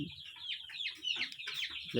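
Free-range desi chickens cluck repeatedly while pecking at drumstick (moringa) leaves, several birds close by in a steady chatter of short calls.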